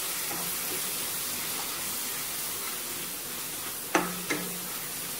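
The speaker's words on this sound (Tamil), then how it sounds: "நல்லா அந்த எண்ணெயிலே கொஞ்சம் வதக்கி விட்டுலாம்" Spices sauté in hot oil for a dried fish curry, a steady close sizzle and hiss running throughout, with two brief clinks of a utensil against the pan near the end and no talking.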